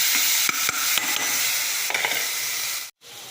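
Cloves and whole spices sauté in hot oil in a pan for chicken gravy, giving a loud, steady close sizzle broken by several sharp stirring clicks before cutting off briefly near the end.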